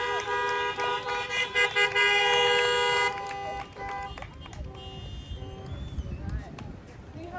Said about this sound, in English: We have another round of honks for Sharon, please.